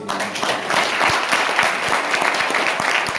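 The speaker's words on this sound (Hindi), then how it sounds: "एक बार तालियां बजा दो" A burst of audience applause fills the room with dense, continuous clapping at steady loudness, no voices over it.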